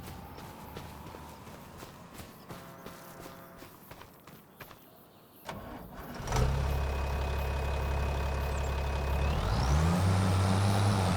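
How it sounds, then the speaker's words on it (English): Tractor engine in the video game Farming Simulator 25, starting after a few seconds of clopping footsteps, then a loud steady low drone with a rising whine as it revs up, close and alone. "This tractor has such a good sound to it."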